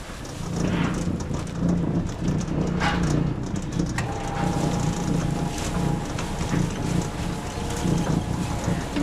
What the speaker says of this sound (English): right now we're just unloading the cart